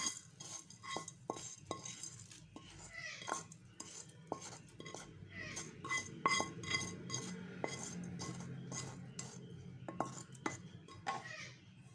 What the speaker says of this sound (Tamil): இப்போ நம்ம தாளித்து வச்சுருக்கிறத தயிர் சாதத்தில் கொட்டிக்கலாம்.